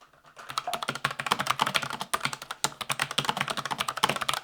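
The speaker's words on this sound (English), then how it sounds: "something a bit more tactile, something with a bit of noise actually, and a bit more key travel" Rapid, steady clacking of a tactile keyboard with deep key travel, keys struck close up in quick bursts with a brief pause midway, no voices.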